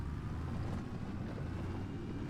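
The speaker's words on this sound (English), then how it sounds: "let's hop in and get this little tractor fired up again. It actually runs pretty good for such an older tractor." An old, small tractor engine in the Farming Simulator 2025 video game runs at a steady idle, giving a continuous low rumble. The sound holds level for the whole stretch, with no voices over it.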